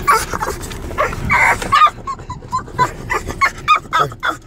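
An excited French Bulldog, about to go to the dog park, lets out high whimpers and yips that turn into a quick, rhythmic string of short barks, loud and close.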